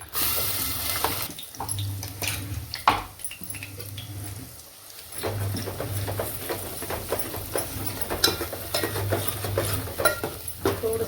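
Ground masala paste is sautéed and stirred in hot oil in a pot while a mutton curry is being prepared: a soft, steady sizzle with scraping spoon strokes and light clinks, close by and fairly quiet.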